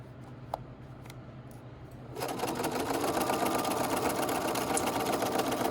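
Sewing machine stitching a collar sample, starting after a quiet moment with a few faint clicks and then running in a steady close whirring buzz of rapid stitches.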